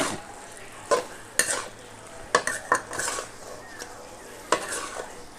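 Squid stir-fries in a pan with a soft background sizzle, punctuated by repeated scrapes and clanks of a spatula against the metal at an irregular pace.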